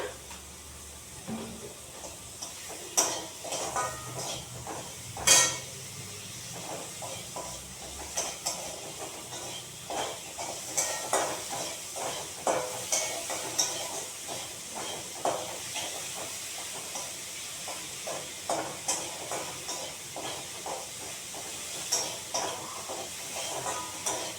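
Sweetened malabar spinach greens and prawns fry in a pan with a soft hissing sizzle, broken by rhythmic scraping stirs and occasional clatters close by.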